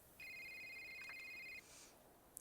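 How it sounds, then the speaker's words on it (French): A phone rings once with a high, buzzing electronic trill lasting over a second, faint against a steady low hiss, followed by a brief soft tone. "Un appel."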